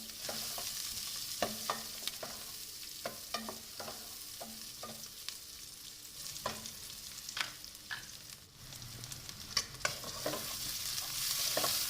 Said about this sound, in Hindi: इसको हमने मुसलसल चम्मच चलाते रहना है और इसको हम और पकाएंगे